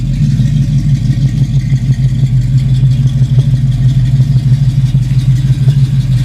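A 1972 Camaro split nose with a brand new 350 crate V8 idles close by, a loud, steady, deep rumble with a slightly lumpy rhythm and no voices.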